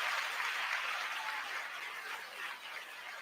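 Crowd applause sound effect on a radio show: steady, hissy clapping and cheering sustained throughout, moderately loud and fading slightly toward the end.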